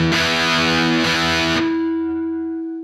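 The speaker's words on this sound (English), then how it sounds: "Let's see if I can just boost the tone on that stock version just to compensate." A stock Boss DS-1 distortion pedal with its tone knob boosted drives an electric guitar through a couple of bright, fuzzy strummed chords, then a single held note rings out and slowly decays.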